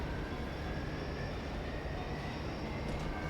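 Tram in the video game F.E.A.R. 2 rolling steadily along rails, a dense, constant rumble with a faint high whine above it, moderately loud and unbroken.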